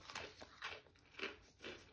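A Japanese snack stick is bitten and chewed close to the microphone, four or five faint crisp crunches spaced about half a second apart with no talking.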